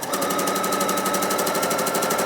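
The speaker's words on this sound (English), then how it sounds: "We're sewing a 1/4 inch." A sewing machine stitches a quilt strip set with a quarter-inch seam, a fast, even mechanical rattle that runs steadily and close throughout.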